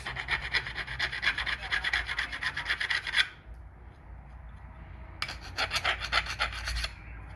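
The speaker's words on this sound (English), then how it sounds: "What I'll do for each one is I'll take our Wonder file from 1956." A hand file rasps a burr off a metal rod for an antenna build, in quick repeated strokes that are close and loud, then a pause of about two seconds before another burst of filing.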